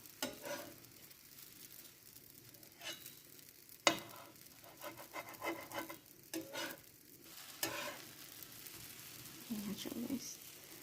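Mini pancakes (marassi) cooking in a pan, soft sizzling under a spatula scraping and turning them with occasional sharp knocks, close by, with a voice speaking intermittently over the kitchen sounds.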